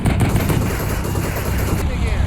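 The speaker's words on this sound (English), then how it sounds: "the lead tank starts taking 50 caliber fire on its left side" Rapid 50 caliber machine gun fire in the Cold War tank combat game Combat Mission Cold War, a loud, dense continuous rattle of bursts filling the whole stretch.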